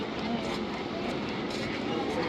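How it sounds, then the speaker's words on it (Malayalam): Train pulling out of a station, a dense continuous rumble and rush of wheels heard close from inside the carriage, steady and fairly loud throughout. "നമ്മുടെ ട്രെയിൻ സ്റ്റേഷനിൽ നിന്ന് വിട്ടു"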